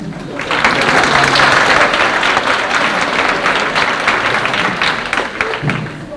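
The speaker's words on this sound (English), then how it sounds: "So, yes, applause is important there. Please do more of that." An audience at a 1990 band banquet bursts into loud, full applause that swells quickly and holds steady, many hands clapping together before tapering slightly at the end.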